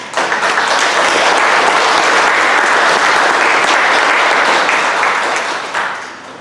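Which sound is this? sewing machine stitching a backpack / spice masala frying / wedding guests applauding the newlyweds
wedding guests applauding the newlyweds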